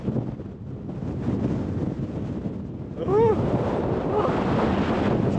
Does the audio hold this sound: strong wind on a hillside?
yes